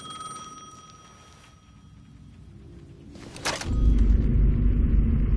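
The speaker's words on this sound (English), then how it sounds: "The payphone was ringing again." A payphone rings in the video game Alan Wake 2: a faint, steady electronic ring sustained over low ambient rumble, then a sharp burst gives way to a loud, heavy rumbling drone.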